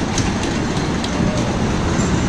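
Kings Island's red Beast roller coaster train rolling toward the lift hill, a steady broadband rumble of wheels on track with faint clickety-clack, continuous and fairly loud with no talk.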